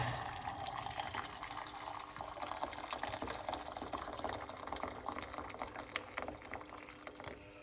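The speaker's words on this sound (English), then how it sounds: "we are going to put 1 cup of hot water" Hot water pouring steadily into a cup, a continuous gurgling stream heard close up without speech.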